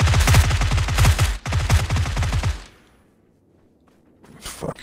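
Loud automatic gunfire from a PUBG match on Xbox fires in two long, rapid bursts of evenly spaced shots. A pause of near silence follows, then a fainter final burst.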